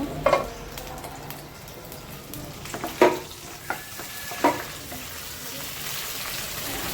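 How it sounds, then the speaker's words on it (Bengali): Chopped onion and garlic frying in oil, a continuous close sizzle broken by several sharp spatula knocks and stirring scrapes against the pan. "পেঁয়াজ রসুন এগুলো কুচি করে নিয়েছি কুচি করে এখন হচ্ছে তেলের মধ্যে রান্না করে নেব"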